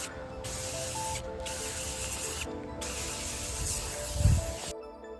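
Several close, loud hissing bursts of a new car scent freshener aerosol being sprayed inside a 2004 Subaru Forester XS, separated by short pauses, with no talk.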